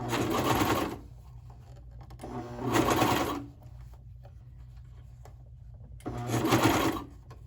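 Cover stitch sewing machine sewing a dance leotard, running in three loud, steady whirring bursts up close with quieter gaps between them.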